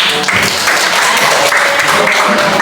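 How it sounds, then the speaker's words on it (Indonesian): A classroom of students claps for a classmate's group after a presentation, a dense, steady round of applause lasting a few seconds, loud and close. "Ya, terima kasih untuk Sofi, tepuk tangan."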